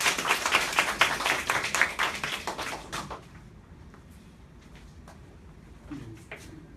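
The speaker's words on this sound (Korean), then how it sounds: "박수로 맞이해주세요" A lecture audience claps to welcome the speaker onstage, a lively burst of applause that fades out after about three seconds, leaving a quiet room with a few scattered claps and small sounds.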